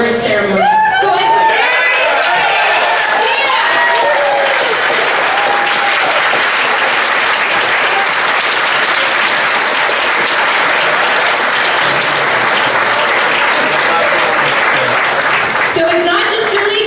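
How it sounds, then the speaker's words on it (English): Audience applause at the United Way Award Ceremony, loud sustained clapping from a large crowd in a room that lasts about sixteen seconds, with whoops and chatter mixed in and a voice over the start and end. "give yourselves a big round of applause"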